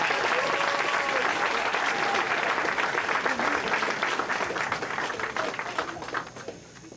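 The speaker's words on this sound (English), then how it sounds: "Let's give all of our honorees a rousing round of applause." A room full of people at an evening town-meeting event with the Bahamian prime minister gives the honorees a sustained round of applause, loud and dense at first, then thinning and fading toward the end.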